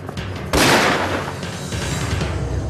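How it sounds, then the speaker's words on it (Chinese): A single loud gunshot bursts out in a kung fu action film, a sharp blast followed by a long ringing decay over a low rumble of background score, with no talk. "谁让你开枪的？"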